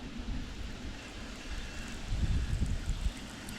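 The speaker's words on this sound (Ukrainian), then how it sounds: "Такий вітер." Low, gusty wind rumble buffets the microphone outdoors on a boat while float fishing, swelling stronger toward the end, with faint broadband hiss throughout and no voices.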